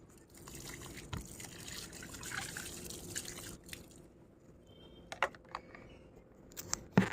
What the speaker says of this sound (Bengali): ফাঙ্গিসাইড জল দিয়ে দিচ্ছি দেখুন